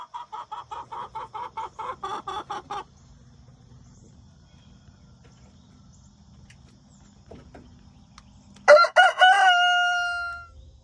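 A rooster crows loudly near the end, preceded by a run of rapid rhythmic clucking or cackling from chickens and a low background hum.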